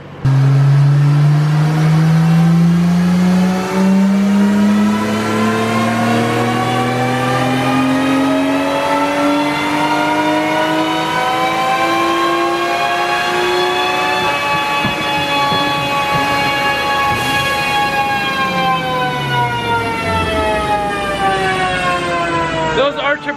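A Nissan Skyline R34 GT-R engine revs hard and steadily on a dyno, its pitch climbing slowly for several seconds and then holding at a high, loud drone with a brief dip near the end.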